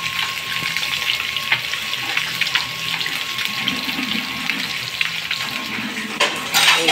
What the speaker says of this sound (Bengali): এই যে বড় মাছ ভাজা হচ্ছে।